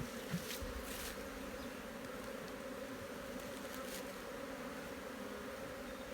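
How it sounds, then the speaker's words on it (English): Honey bees from a spring hive buzz in a soft, continuous drone just after a brood frame is shaken, with no talk over the hum. "I'm just going to take a quick shake to make sure there's enough bees in the colony"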